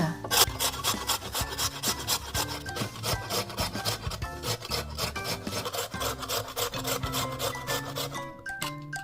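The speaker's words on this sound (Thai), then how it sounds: "ขูดมันฝรั่งกันต่อค่ะ" Potatoes grated by hand in a home kitchen, a steady run of fast rasping strokes scraping back and forth across the grater, close and fairly loud with no talking.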